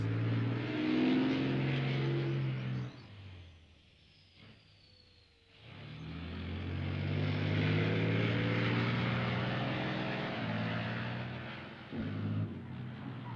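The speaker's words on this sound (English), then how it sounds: "The tank can turn on its own axis in a mere 5 seconds." Leopard 2 battle tank with hydro-pneumatic suspension driving and pivoting on its own axis, a loud steady engine roar and track rumble that dips briefly to near quiet midway before surging back, close and alone.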